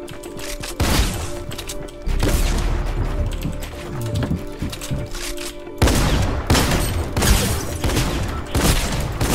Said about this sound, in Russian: этот дробовик ненавижу просто